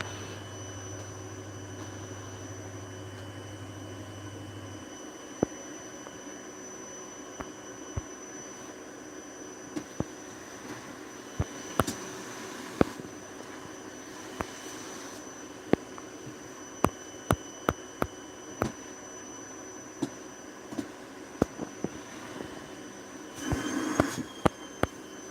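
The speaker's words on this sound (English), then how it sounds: "how's my vacuum cleaning background? How's the vacuum right here?" A vacuum cleaner running steadily in the background as a constant whirring drone, with a low hum at the start and scattered sharp clicks throughout.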